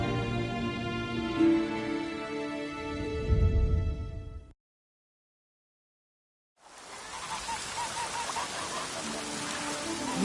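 Steady rain patters down in an even, hissing wash that starts after a stretch of music and a moment of silence, then continues close and constant to the end.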